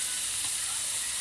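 A single chili pepper dropped into a hot pan of leftover stock, giving a steady, close sizzling hiss that holds evenly throughout.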